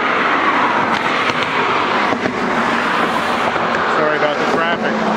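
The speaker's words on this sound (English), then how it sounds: "sorry about the traffic." Steady road traffic rushes past close by near a creek and picnic area in a park, a continuous broadband roar with no voices.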